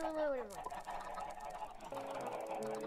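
Monster chicken in the Minecraft video game, a honking, squawking fowl-like call that sweeps downward in the first half second, followed by game noise and faint tonal sounds.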